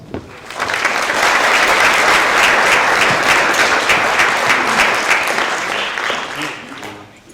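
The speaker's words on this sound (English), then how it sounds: "Can you give them a round of applause?" At a high school JROTC award ceremony, a large crowd of parents and guests claps after the color guard posts the colors, the applause swelling quickly, holding loud and steady, then tapering off near the end.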